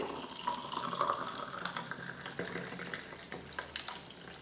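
Fruit juice ground in a mixer pours into a glass as soft liquid splashing and trickling, fairly faint and uneven, with small drips toward the end and no speech.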